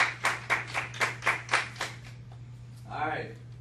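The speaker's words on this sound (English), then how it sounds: "let's give them another round of applause" Game show studio audience on Family Feud clapping in a regular rhythm, about seven distinct claps roughly a quarter second apart, then fading into a low background hum with a brief voice-like sound near the end.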